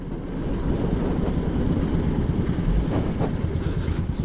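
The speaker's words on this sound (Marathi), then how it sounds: "हो कोकण रेल्वे चालली" A Konkan Railway train rolls past near a road jammed with traffic, giving a steady, fairly loud rumble and clatter that carries on throughout with no speech.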